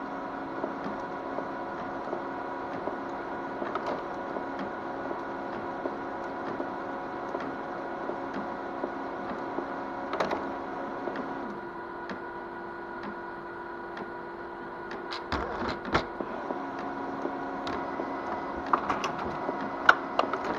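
A Konica Minolta 2500W printer with a fault prints a page: a steady mechanical whir with scattered clicks and ticks, plus a brief clattering burst partway through.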